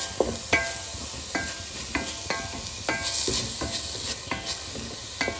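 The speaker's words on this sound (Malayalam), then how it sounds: "അതിട്ടിട്ട് നന്നായിട്ട് വഴറ്റുക." Ground ginger, garlic and green chilli paste sautéed in a new black pan, with repeated stirring scrapes over a steady soft sizzle, close and moderately quiet.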